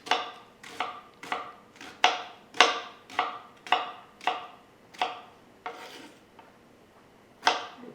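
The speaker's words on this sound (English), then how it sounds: "So you need to chop the onions." A knife chopping onions finely on a board while making Indian daal: a steady rhythm of about a dozen crisp, near cuts, with a brief pause before the last stroke.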